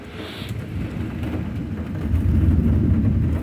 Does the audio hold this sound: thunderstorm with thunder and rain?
yes